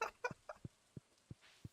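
Several short clucks from a chicken in Stardew Valley, a quick cluster of calls followed by single clucks spaced about a third of a second apart, faint and close with no other sound around them.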